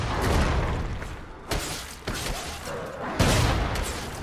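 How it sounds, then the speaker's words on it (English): A double explosion in the video game Ascend: Hand of Kul sets off dense, noisy bursts and booms, with two sharp blasts standing out over a constant roar of combat effects. "Oh, double explosion."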